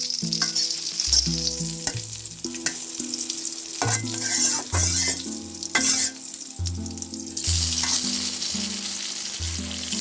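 Slices of begun (eggplant) fry in oil in a pan, sizzling loudly and continuously up close, with occasional clatters and scrapes as the pieces are moved.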